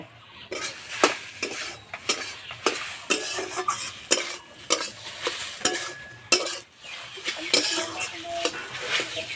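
Food fries in a pan while a spatula or spoon scrapes and taps against it in an irregular rhythm, with a soft sizzle underneath and metallic clinks close by, while an egg bharta is being cooked.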